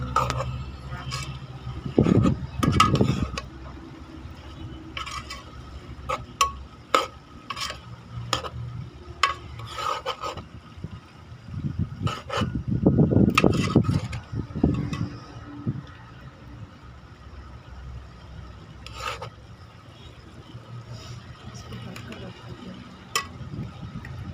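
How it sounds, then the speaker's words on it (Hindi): A spoon stirs a masala of tomatoes and ground coriander in a pot, making loud bursts of scraping and swirling over a low sizzle, with scattered sharp clinks against the metal. "इसको मिक्स कर लेते हैं अच्छे तरीके से"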